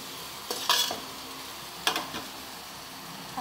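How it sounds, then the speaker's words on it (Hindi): Egg-dipped slices of sweet bread fry in a pan, giving a low steady sizzle with two brief bursts of scraping and clatter as pieces are turned or placed. "अब हम इसको फ्राई करेंगे।"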